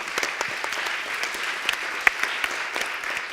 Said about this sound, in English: our brilliant technician up there, which we could applaud because we could thank him for all the technical work